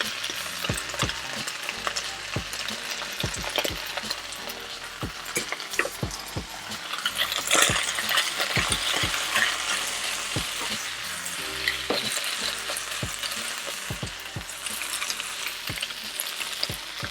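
Carrots and green beans hiss and sizzle in a hot pan while being stir-fried with beef, with constant crackling spiced by sharp clinks and scrapes of a utensil stirring throughout, close and steady.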